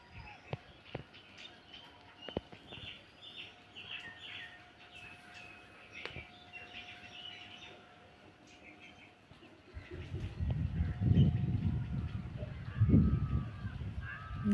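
Small birds, sparrows, chirp and twitter in a quiet rural setting, a scattering of faint, brief calls spread across the stretch, joined later by a louder low rumbling background.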